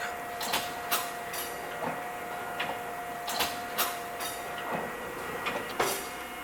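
An automatic wrapper bundler runs with a rhythmic series of clunks and clacks over a steady mechanical hum and a faint whine, sounding close and continuous, with no voices.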